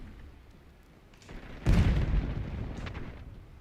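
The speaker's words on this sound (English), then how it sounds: "Flashbang." A flashbang grenade in Call of Duty Black Ops 6 goes off as one sharp, loud burst after a quiet stretch of low ambience, then fades into a rumbling, ringing tail.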